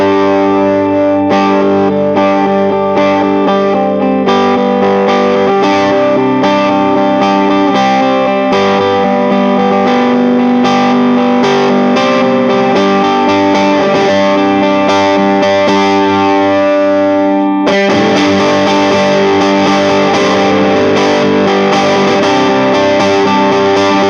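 Gretsch G5120 hollow-body electric guitar in the middle pickup position, played through a Vox Night Train NT15H amp with volume near noon: loud, sustained chords with a gritty, driven edge, ringing continuously with a brief break near the end.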